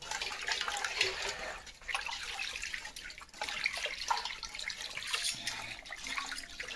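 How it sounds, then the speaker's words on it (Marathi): Raw chicken being rinsed under running water for a clay-pot Konkan popti, a steady broadband splash and trickle of tap water filling the sink, continuous and close, with no talk. "चिकनला मस्त धुवूया पाण्याने व्यवस्थित स्वच्छ पाण्याने असं चांगल्यापैकी"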